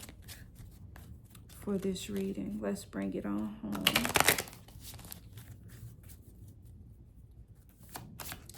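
Moonology oracle cards are shuffled in quick riffling bursts, close and crisp, with a voice talking between and over the shuffles.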